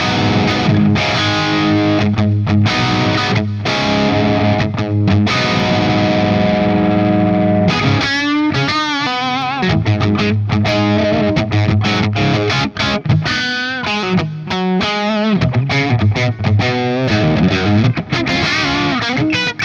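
An electric guitar through an HF 100-watt amp set to an MTL tone plays hard rock rhythm in loud, driven chords with a bit of grind, alternating sustained strums with choppy, muted bursts.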